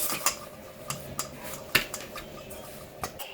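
A spoon mixes flour and honey in a bowl, making quiet, irregular clicks and taps against the sides with no talking.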